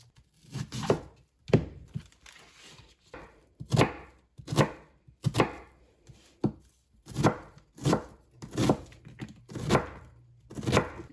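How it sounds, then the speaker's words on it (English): Knife chopping onion, carrots and celery on a cutting board, about a dozen crisp, evenly spaced thuds close by with brief pauses between strokes, no talking. "I'm gonna cut up some onion, carrots, and celery"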